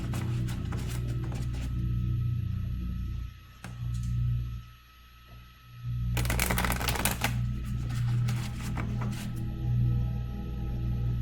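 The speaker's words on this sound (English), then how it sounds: "I'm shuffling for the energy of the group right now, the collective" Tarot cards being shuffled for a group reading, a steady run of soft papery riffles and flicks with a brief pause midway, then a louder burst of card snaps and slaps, close and without speech.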